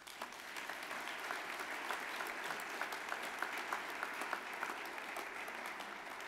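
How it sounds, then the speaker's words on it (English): Steady audience applause fills a hall at an awards show tribute to departed champions, dense, even clapping sustained from start to finish with no voices over it. "Good round of applause."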